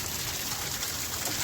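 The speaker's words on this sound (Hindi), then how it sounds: "ऊपर से आ रहा है पानी।" Water flowing down from above beside the Kedarnath trek path past Gaurikund: a steady, fairly close rushing wash with no pauses and no voices.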